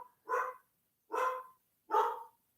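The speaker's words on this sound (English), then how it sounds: "foster dog barking" A foster dog barks three times in separate, evenly spaced woofs, each short and fairly loud, with silence between them and no talk.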